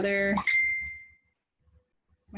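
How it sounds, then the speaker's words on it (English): A phone notification chimes once with a bright single ding that rings out and fades over about a second, right after a voice, with near silence following before he talks again. "phone's just dinging, sorry."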